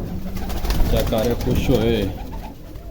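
Pigeons coo softly while feeding on grain, a close, low murmuring that runs under a voice talking over them.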